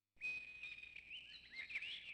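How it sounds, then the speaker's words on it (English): Uzbeki mountain sparrow call in the spy video game Spycraft: a sustained, bright, whistling bird song with warbling pitch changes, fairly clear and heard alone without talk. "we got the Uzbeki mountain sparrow."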